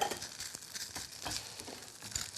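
Onions and black bean sauce sizzle in a hot pan, a soft continuous frying crackle with brief stirring scrapes, fairly quiet and close.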